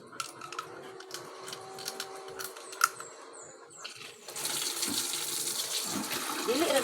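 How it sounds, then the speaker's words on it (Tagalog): Water running loudly, likely from a tap or into a basin during uniform washing, with a steady broadband rush that starts partway through and grows louder toward the end after quieter handling noises. "Wasak kayong tingog sa tubig"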